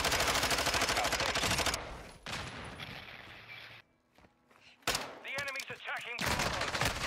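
Video-game gunfire fills the opening with dense automatic bursts, then sparser shots and clatter follow, with brief silence before more firing near the end and a voice speaking over parts of it.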